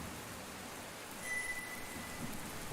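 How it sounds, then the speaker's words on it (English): Heavy rain in the video game Golden Treasure: The Great Green falls as a soft, steady hiss, fairly faint, with a low rumble in the background. "The rain is coming down harder now, making vision unclear"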